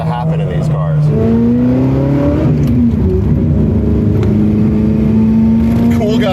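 A Ferrari project car engine revs hard toward 9000 RPM, its rising tone climbing and falling through repeated pulls at close, loud range, with voices talking over it throughout.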